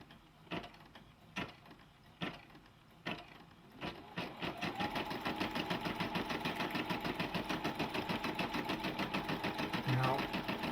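A combo sewing and embroidery machine with a 4 x 4 hoop stitches nearby: a few separate clunks at first, then a steady fast mechanical chatter of needle strokes that runs on evenly.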